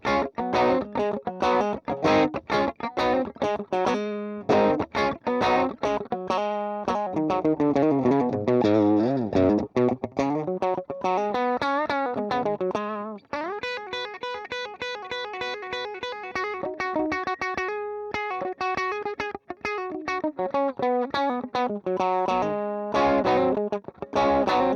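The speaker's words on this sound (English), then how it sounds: "This is Foxy TB, a different amp, but it also says it's based on the Vox AC30 on the normal channel." Electric guitar played through the Valeton GP-200 Foxy TB amp model, based on a Vox AC30 normal channel: a sustained run of overdriven chords and melodic lines with a slightly distorted, chimey tone, loud and continuous with no talk.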